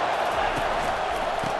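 A dense, roaring stadium crowd in the College Football 25 video game, Texas A&M vs Florida, swells steadily as a continuous wash of cheering, with a voice faintly underneath.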